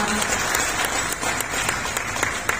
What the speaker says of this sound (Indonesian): Boleh aplaus untuk Kabupaten Malang.